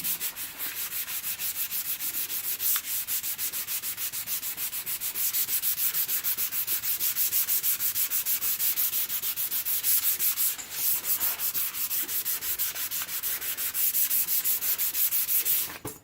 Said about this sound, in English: I'm sanding everything around it